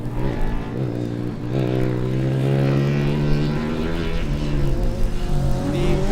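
A four-wheel-drive Formula Student race car runs an autocross course, its engine note loud and rising and falling steadily as it accelerates and eases off through the corners, with no voices heard.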